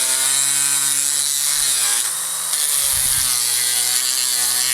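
A small hand saw cuts a slot into a plastic toothbrush handle for a homemade swimbait lure, a loud, steady rasping stroke close to the microphone with brief pauses as the blade changes direction.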